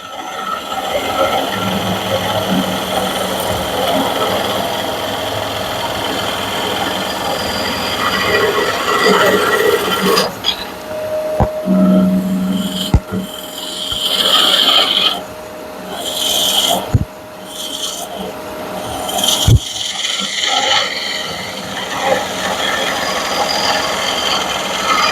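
A wood lathe spins at about 1200 RPM with a steady droning hum, later broken by a few sharp knocks and brief bursts of cutting noise.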